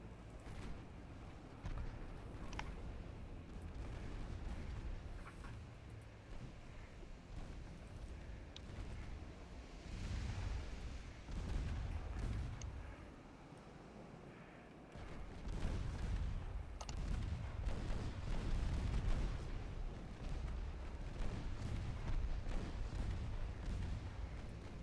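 Warship guns boom again and again in the naval game Ultimate Admiral Dreadnoughts, heavy rumbling salvos and explosions rolling over a continuous low battle din for a long stretch, with no talk.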